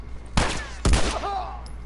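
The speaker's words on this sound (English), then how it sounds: "Get up and shoot one more time." Two sharp gunshots ring out in The Last of Us, about half a second apart, each loud and close with a quick decay, followed by faint ringing tones and low background rumble.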